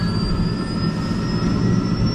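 Eurocopter EC120 helicopter turbine engine starting, a loud steady rushing roar with a rising high whine, continuous and close throughout.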